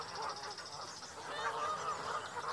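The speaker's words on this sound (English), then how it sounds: "But the geese missed their master at once. With a great cackling and hissing, they went, half flying" A flock of geese cackling and honking in a meadow, a dense continuous chorus of overlapping calls at moderate distance, steady throughout with no talking.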